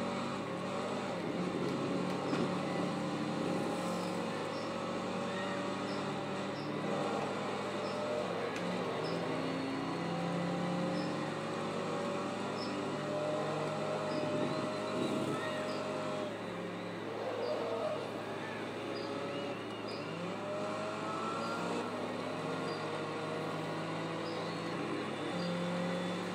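A Toyota Celica engine in the racing video game Forza 2, a steady droning hum with rising and falling pitch as it shifts through the gears, heard continuously and fairly close, with no talking.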